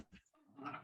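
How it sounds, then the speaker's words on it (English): Dogs in the background, a couple of short faint yips followed by a low whimpering growl, brief and quiet. "Sorry if you can hear my dogs"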